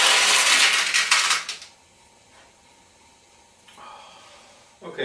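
Steel balls of a Heiwa single-ball pachinko machine clatter and rattle loudly down through the pins for a second and a half, then fall away to near silence with a few faint clicks.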